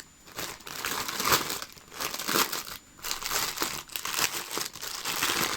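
Plastic packaging around a Temu cap being crinkled and pulled open, with loud, close crackling in uneven bursts and brief pauses between handfuls.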